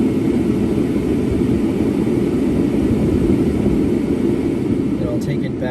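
Cabin ventilation fan of an Electra Meccanica SOLO running at its highest setting, a steady broad rushing whoosh of air filling the small interior, constant and close throughout.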